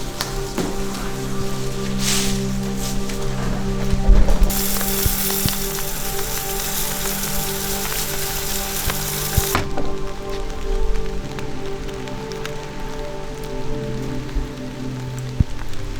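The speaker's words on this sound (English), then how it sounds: "And now we get the hose and we rinse it all down" A garden hose spraying water to rinse down a wellhead after bleaching, a steady hissing rush that starts abruptly, runs for several seconds close by, then cuts off, leaving low background hum and scattered clicks.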